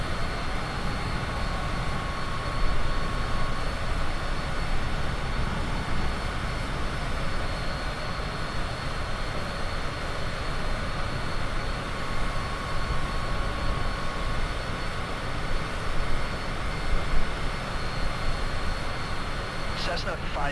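Steady drone of a Cessna piston engine in Microsoft Flight Simulator 2024 cockpit, a continuous broadband hum with a faint tonal whine, loud and unbroken throughout.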